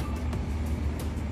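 Jaya Utama Indo Patas express bus bound for Semarang passes through a bus terminal at night, giving a low, steady engine rumble with broad traffic noise, fairly even and moderately distant.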